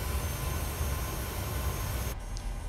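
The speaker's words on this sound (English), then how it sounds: "we'll get our second engine up and going" A Boeing 737 engine in Microsoft Flight Simulator spools up as a steady, loud roar with a strong low rumble, cutting off abruptly near the end into near quiet.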